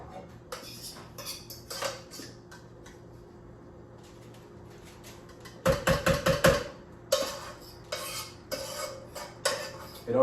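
A spoon scrapes and clatters against a metal baking sheet while a vegan taco mixture is spread out across it, in irregular bursts of taps and scrapes with quieter gaps between.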